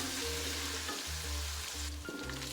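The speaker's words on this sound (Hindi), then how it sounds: "इसको हम अच्छी तरह सौते करेंगे" Chopped ginger and garlic sizzle steadily in hot ghee with cumin for aloo bhujia, a continuous close frying hiss with low hum beneath.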